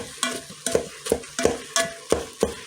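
Ingredients being stirred in an Instant Pot before more are added: a steady run of six or seven scraping strokes about every 0.7 seconds, close and clear with a light sizzle beneath, no talking.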